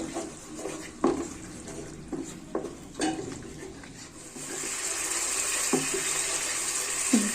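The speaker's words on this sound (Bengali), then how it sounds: "টক দই দিয়ে এই মশলা আবারও কষাবো" A spoon stirs spice paste with sour yogurt in a pan for cauliflower roast, giving several scraping knocks against the pan, then a steady sizzling hiss rises underneath.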